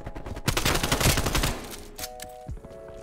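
Gunfire crackles in the Black Ops Cold War video game, with a rapid fusillade of shots for about a second and a half. Then come a few scattered single shots and a short tonal game alert.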